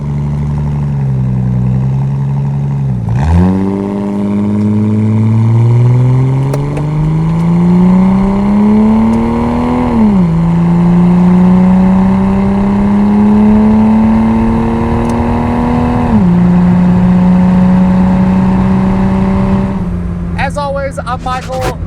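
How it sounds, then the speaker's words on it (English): A 1983 Datsun 280ZX accelerates hard from a standstill. Its engine note climbs steadily through three or four gear changes, loud and close, with a tire squeal near the end and no talk. "Not sure we're going to get much of a tire chirp from a dead stop, but we can definitely at least try."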